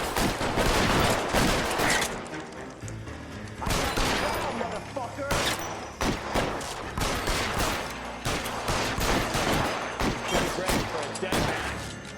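Gunfire from the 1940s Los Angeles crime game L.A. Noire cracks out in loud, close bursts and rapid volleys, with brief pauses and voices speaking between shots.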